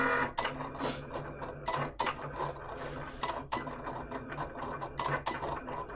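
A Cricut cutting machine writing text with a pen, heard close up as quiet motor whirs and sharp clicks as the carriage moves back and forth, with no talk.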